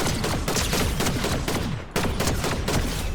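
Rapid, dense bursts of automatic gunfire from the Max Payne gun in a superhero-season video game, loud and close, with a short break partway through before the firing resumes.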